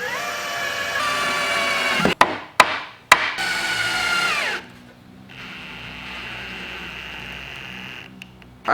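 A pocket-hole drill bores into half-inch plywood for a walnut credenza, giving a steady, loud whine broken by a few sharp knocks, then dropping to a quieter hum.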